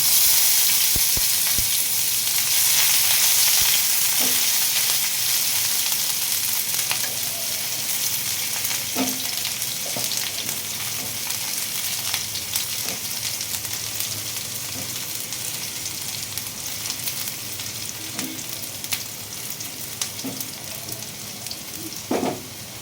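Chopped onion frying with cumin seeds and a dried red chili for an okra curry, a loud, steady sizzle that slowly softens, with occasional stirring knocks.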